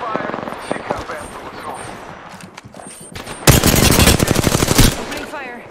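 Rapid automatic gunfire erupts in the Apex Legends video game. Scattered single shots come first, then a loud, sustained burst of fast repeating fire, with a voice speaking at times.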